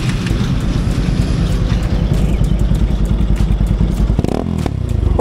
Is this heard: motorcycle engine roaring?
yes